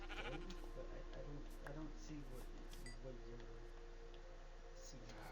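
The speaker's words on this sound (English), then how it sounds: "And another sheep." Sheep in the Minecraft video game bleat in several short, wavering cries spread across the clip, heard over steady background game sound and a continuous low hum.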